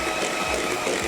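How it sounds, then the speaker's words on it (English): Electric beaters whir steadily at close range while creaming a sticky date pudding mixture in a bowl, a continuous motor drone with no talking. "Maybe we can give the beaters another try"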